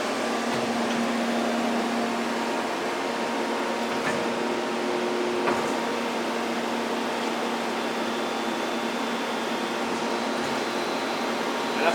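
Sunnen SV-3 vertical two-stage honing machine runs a slow cycle at low spindle speed, a steady mechanical hum and whir with faint knocks, constant in level throughout.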